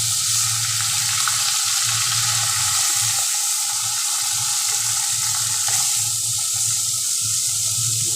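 Spice-marinated fish slid into a hot wok on high gas, bursting into a loud, continuous sizzle with bubbling oil that stays steady and close.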